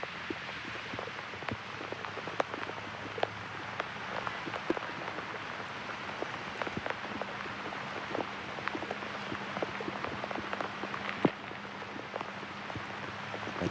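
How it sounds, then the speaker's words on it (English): Steady rain patters on a golf course in Galloway, New Jersey, with scattered louder drops ticking close by, a soft, continuous wash of sound with no voices. "The rain beginning to fall again here in Galloway, New Jersey"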